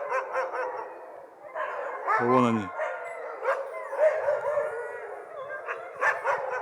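Many sled dogs howl and bark together from their kennels in Finnish Lapland's Urho Kekkonen National Park in a continuous chorus, with one loud bark nearby and a person speaking briefly.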